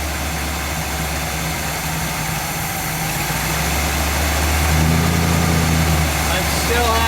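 A 1959 GMC truck engine idles just after start-up, a steady low rumble with slight unevenness as it settles, rising a little in level toward the end.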